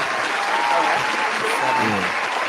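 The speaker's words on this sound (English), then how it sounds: "Us clapping." A small group of people claps steadily on a porch, a dense continuous patter close by, with voices talking underneath.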